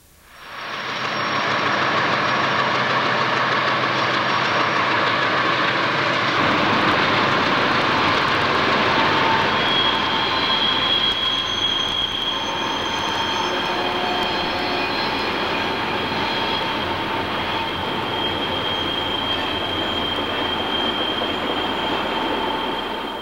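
A CSX freight train rolls past on the Clinchfield line, a loud, steady rumble of railcars and wheels that holds for the whole stretch, with some squeal from the wheels.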